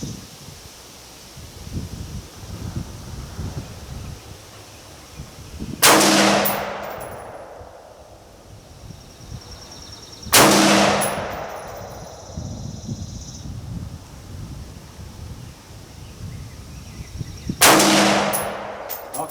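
Colt SP1 rifle fired from a magazine outdoors, three loud sharp shots spaced several seconds apart, each with a ringing decay over faint rustling background.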